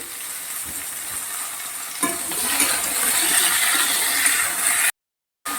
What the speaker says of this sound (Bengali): আমার কম তেলে তো রান্নাগুলো হয় এভাবে সব সবজিগুলোকে আমি ভেজে নেব